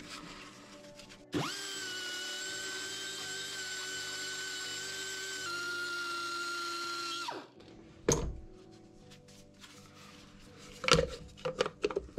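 A power grinder whines steadily for several seconds, grinding a Yamaha Aerox scooter engine cylinder, then cuts off, followed by a few sharp clanks and knocks of metal being handled.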